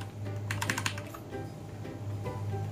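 Quick bursts of keystrokes clatter on an Ajazz AK871 wireless mechanical keyboard, with a dense run of clicks early on and then a few scattered presses over a steady low hum. No one speaks.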